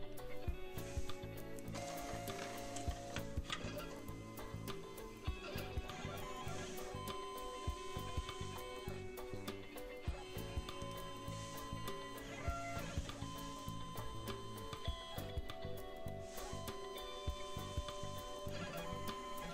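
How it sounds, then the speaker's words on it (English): Briot Alta optical lens edger running its automatic calibration cycle with the clamping shaft engaged on the tool, giving steady mechanical whirring with rapid ratcheting clicks and gear-like ticks throughout, close and continuous with no talk. "Select the play icon to start the automatic calibration process."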